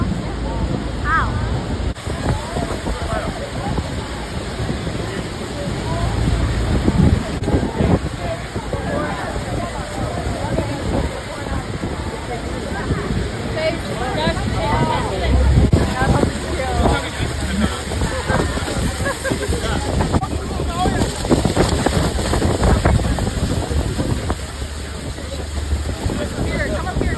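Niagara Falls, near the Horseshoe and American Falls, gives a constant loud roar of falling water with gusting wind buffeting the microphone; the broad wash never lets up, and people may be talking faintly beneath it.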